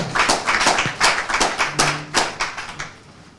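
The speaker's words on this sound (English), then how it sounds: "Please give him a resounding round of applause one more time" Scattered handclaps from a small audience at an investiture and induction ceremony of a business diplomacy institute, a dozen or so distinct sharp claps in an uneven rhythm that thin out and fade away.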